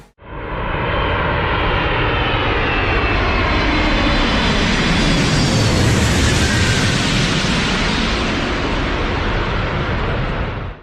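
A jet aircraft roars past overhead, the rushing engine noise swelling loud, peaking midway, then fading slightly as it passes.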